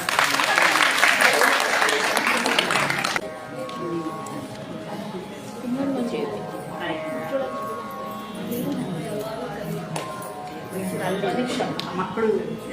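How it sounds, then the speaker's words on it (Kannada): Audience applause at a stage programme fills the first few seconds with a dense, loud burst of clapping that cuts off abruptly, followed by quieter hall ambience with faint murmurs. "ಚಪ್ಪಾಳೆ ಹೊಡೆಯಿರಿ."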